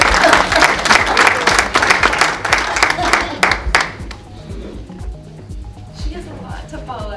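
Audience applause at a launch event for a maternal and newborn care initiative: loud, dense clapping fills the first four seconds, then thins and fades to scattered claps under a low room murmur.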